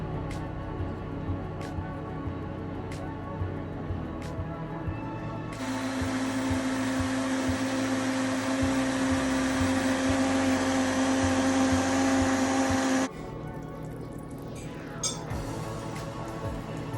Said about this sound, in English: back to my beloved blender